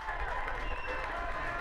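Home crowd at a high school football game cheering and applauding in a steady wash of noise from the stands, with a voice talking over it.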